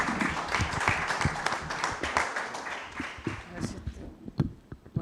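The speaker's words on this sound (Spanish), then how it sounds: "Un aplauso." Applause from a debate audience, scattered individual claps that thin out over several seconds, with voices talking over them.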